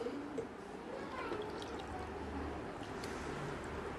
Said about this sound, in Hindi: तीसरे में डालता हूँ कैंगन वाटर